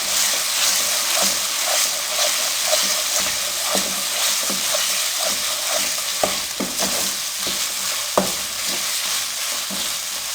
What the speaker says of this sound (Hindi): सब्ज मिर्च को हम 1 से 2 मिनट के लिए अच्छे से फ्राई कर लेंगे।